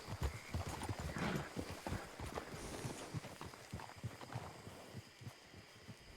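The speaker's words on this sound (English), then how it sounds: "I heard hoofs." Horse hooves in a Red Dead roleplay game, a rapid, even clip-clop of steady footfalls, fairly close and continuous throughout, with faint background noise and no talk over it.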